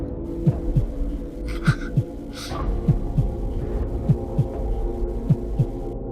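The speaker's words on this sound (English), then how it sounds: "That sounded like a heartbeat, so I guess that's a yes too." A synthetic heartbeat from the visual novel video game Adrift pulses in steady double beats, low and thumping over a constant electronic hum, with brief bleeps in between.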